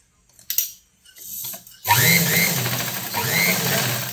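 A sewing machine stitching a tip on fabric while sewing semi Patiyala pants: after a few soft clicks and a pause, the motor whirs steadily and close for the last two seconds.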